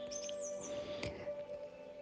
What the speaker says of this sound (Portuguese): Eu tava aqui ouvindo um fundo musical e tem os sons de passarinho